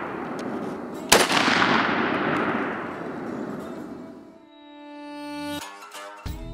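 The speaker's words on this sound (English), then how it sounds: "All right, Joel, I'm gonna go for the a couple of shots on the bowling pins again" A Springfield M1A (M14) rifle fires a loud, close shot into bowling pins at an outdoor backyard range, followed by a long decaying rumble, then ringing metallic and clattering impact sounds trailing off.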